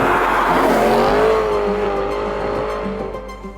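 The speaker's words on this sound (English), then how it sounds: "the tones and bellows it delivers are a result of a beautifully designed plenum which produces that distinctive induction noise" BMW E92 M3 V8 engine induction roar, a rising then steady bellowing tone with strong harmonics, loud and close throughout with no talking.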